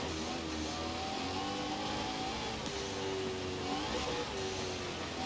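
Koenigsegg Agera RS engine in the Forza Horizon 4 racing game, revving with rising and falling whining tones over a steady mechanical drone, continuous and fairly faint, with no talk.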